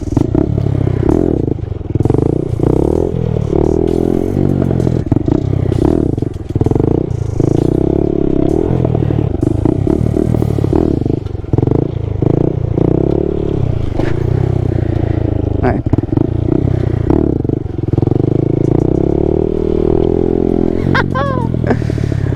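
Honda Grom stunt motorcycle ridden through wheelies, its small engine droning and revving steadily close by with clattering and scraping, under ongoing talk.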